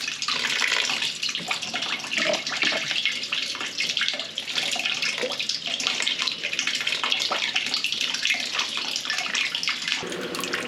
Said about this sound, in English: Once the grain bed is exposed, I'll start pouring this back over.